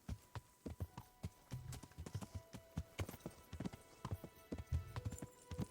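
A horse's hooves clip-clop in a steady, even walking rhythm in the medieval game Kingdom Come: Deliverance, the footfalls fairly faint and evenly spaced throughout.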